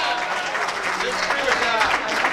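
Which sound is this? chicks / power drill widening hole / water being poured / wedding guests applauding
wedding guests applauding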